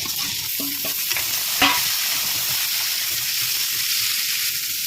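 Tomatoes sautéing in a pan give a steady close sizzle, with a few light clinks of stirring near the start and a brief louder scrape partway through. No voices are heard.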